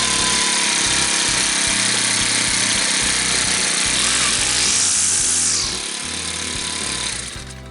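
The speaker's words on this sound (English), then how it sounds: "Okay, it started in 1 pull. This is why I like these weed whackers here." A 4-stroke weed whacker engine runs loud and close after a pull start, its steady buzzing drone holding throughout and easing slightly toward the end.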